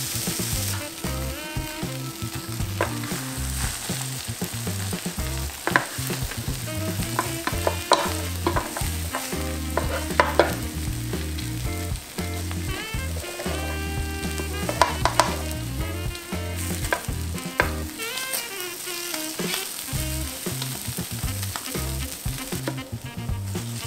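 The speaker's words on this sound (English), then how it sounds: "we might as well get the meat sizzling up" Continuous loud sizzling and frying of egg and meat on a hot griddle, with occasional scraping and stirring clatter over a steady crackling hiss.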